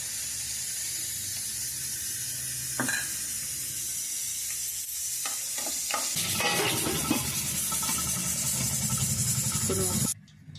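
Green chillies frying in about three spoons of hot oil for an eggplant and pea curry, a continuous hissing sizzle with spatula clinks and bursts of stirring that grow busier midway before cutting off abruptly.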